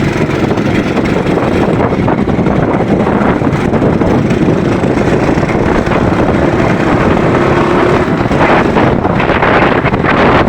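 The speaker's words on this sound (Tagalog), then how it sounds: "Napakalakas ng hangin." Strong wind buffets the microphone during a ride with a steady, loud roar throughout, no voices heard.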